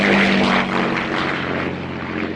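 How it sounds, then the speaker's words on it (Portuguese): Propeller-driven reconnaissance planes drone overhead during a wartime search of an island, a loud continuous engine roar and airscrew buzz holding steady before easing slightly. "enquanto aviões de reconhecimento procuravam do alto"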